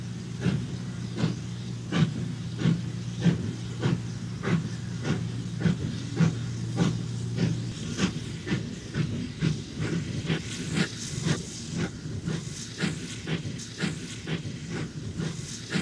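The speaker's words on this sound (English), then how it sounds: "The J will uncouple from its train and reposition some wagons in the sidings." J class steam locomotive at a rural siding during uncoupling from its train, with steady steam hiss, repeated clanks and knocks, and a low idling hum that fades partway through.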